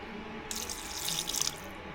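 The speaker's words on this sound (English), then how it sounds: "Now I have to add water." Water poured into a grinder in a kitchen, a brief, faint hissing splash lasting about a second over a low background hum, with no voices.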